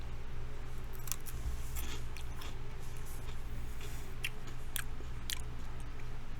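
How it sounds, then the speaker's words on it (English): Someone chewing food close to the microphone, with scattered crisp, crunchy bites over a steady low hum and no talking. "That's for the people who don't like me chewing."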